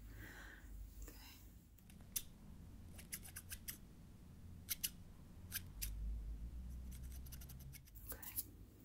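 Crisp, close snips of scissors cutting hair in a quiet room, with scattered single clicks and quick clusters of cuts over a soft low background.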